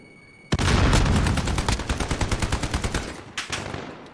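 The AN gun in a video game fires a long, rapid stream of loud, close gunshots in steady succession, then breaks off briefly before a few final shots.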